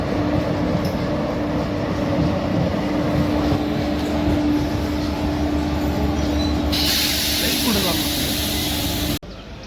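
A crowded Satara–Kolhapur DEMU train pulls away from Hatkanangale station with a steady rumbling roar and a sustained engine hum, people murmuring inside the packed carriage, then an abrupt change in the noise near the end.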